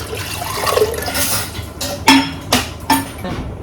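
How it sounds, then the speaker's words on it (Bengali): Hot water poured into a cooking pot for making poha, a running, splashing pour followed by several sharp metallic clinks of the pot close by. "আমি এটার মধ্যে গরম জল বসিয়ে দিয়েছি"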